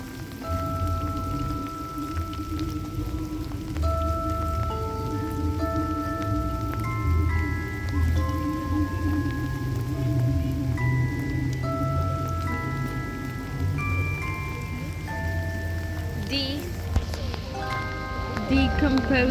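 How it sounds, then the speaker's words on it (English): Steady rain pours down in a continuous hiss, with a slow synth melody playing over it throughout. "It's pouring rain."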